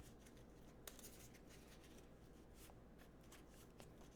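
Yu-Gi-Oh! cards riffled and shuffled by hand at a desk, a quiet continuous papery rustle with a few soft snaps, close and faint, with no talking.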